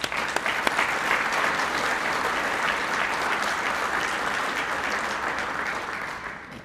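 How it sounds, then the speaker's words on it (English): A graduation commencement audience claps in dense, sustained applause that fills the hall at a steady level before tapering off at the end. "Please join me in giving them a round of applause."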